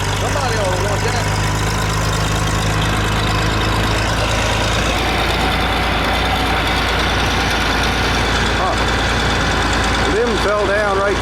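Half-century-old John Deere 3010 diesel tractor idling, a loud, close, steady low chugging rumble throughout, with people talking over it.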